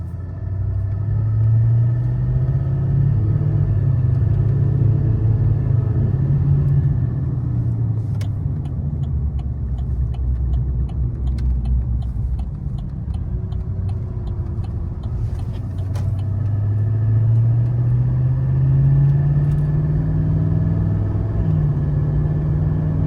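A turbocharged car engine drones steadily from inside the cabin, rising and falling as it revs, with a faint high turbo whine over the rumble.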